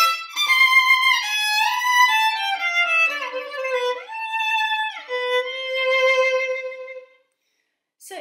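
Solo violin passage from a Level 2 exam piece, a flowing melody with audible sliding expressive shifts between positions, played close and clear with no talking, ending in silence.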